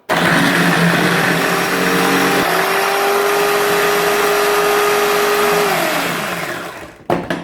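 A cheap Silvercrest KM 250 B1 food processor spinning its blades through onions, a loud steady motor whine that holds, shifts pitch once partway, then winds down and stops, with a few clunks at the end.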